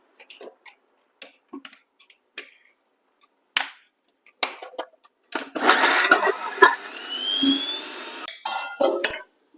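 An electric mixer churns milk into butter; scattered clicks and taps come first, then the motor whirs steadily and loudly for several seconds before stopping.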